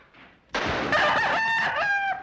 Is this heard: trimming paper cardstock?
no